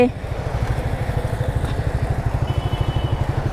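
Nearby motorcycle engine idling with a fast, even putter that holds steady throughout.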